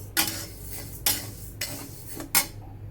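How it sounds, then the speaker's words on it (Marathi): Urad dal being dry-roasted in a pan for Diwali chakli flour, heard as four sharp scraping strokes of a spoon or spatula against the metal pan, spaced about a second apart over a quiet background. "उलडाची डाळ भाजून घेऊयात आपण"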